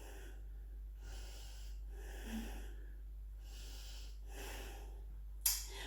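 Slow, deep breaths during a yoga stretch, a steady rhythm of airy inhales and exhales roughly every second, close but quiet, over a low steady hum, ending with a brief sharp noise.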